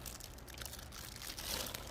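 Thin plastic trash bags, packed as extras with a folding portable camping toilet, crinkle and rustle steadily as they are handled up close. The crackling is soft and continuous for two seconds.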